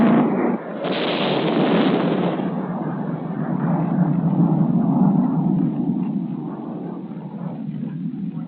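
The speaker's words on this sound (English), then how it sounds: "Super Sabres tested the effectiveness of 20mm high-explosive incendiaries" Twenty-millimetre high-explosive incendiary rounds from F-100 Super Sabre jets striking mock anti-aircraft missile sites in 1963 US Air Force weapons tests: a loud, sustained rumbling barrage of blasts that swells early and rolls on without a break.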